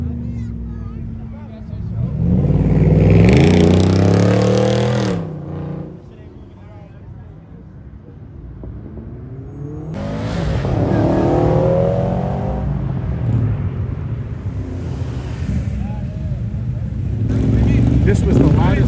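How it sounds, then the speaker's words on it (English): A loud supercar engine at a Florida car show revs hard in powerful bursts, roaring up and dropping back, with a brief lull before the revving returns; people talk faintly underneath. "This was the loudest car at the car show today."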